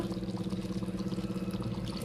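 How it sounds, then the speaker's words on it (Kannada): Thick curd pours steadily into a pot with a soft, continuous gurgling flow, close by and alone. "ಅದಿಷ್ಟು ಮೊಸರು ಹಾಕೊಂಬಿಟ್ಟೆ"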